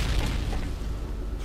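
A frag grenade explodes in the Modern Warfare 2 video game, a deep rumbling boom that fills the short moment and fades slowly, heavy and close.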